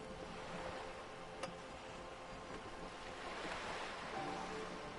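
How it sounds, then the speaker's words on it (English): Wind in Disco Elysium blows steadily across open water with surf and a sail above, a continuous rushing wash of air and waves with one brief flap or snap partway through, alone and without speech. "The wind flaps the sail above her."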